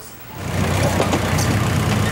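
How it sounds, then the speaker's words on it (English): A farm tractor engine on a lawn, the rumble swelling from quiet to a loud, steady low drone over about two seconds, with no talking. "John Varty pulls his tractor and his temporary home onto the lawn at mile 0."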